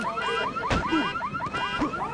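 A car alarm in the Batman Begins video game wails in a fast repeating warble, steady and loud, with a few sharp thumps and clicks cutting through it.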